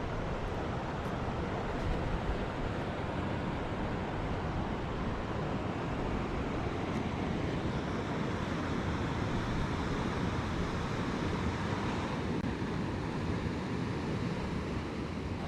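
A waterfall pours over a huge slab of puddingstone rock in the Ontario wilderness, making a steady, full rushing roar that stays unchanged throughout.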